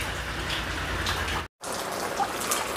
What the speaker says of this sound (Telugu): ఇంకా వర్షం అయితే ఆగలేదు. పడతానే ఉంది.